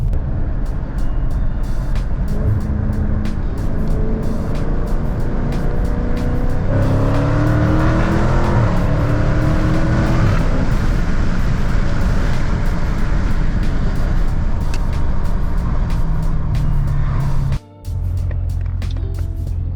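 A Dodge car accelerating hard, with a loud close engine roar and rising tones as it pulls through the gears, continuous throughout, then a brief drop near the end before the engine carries on.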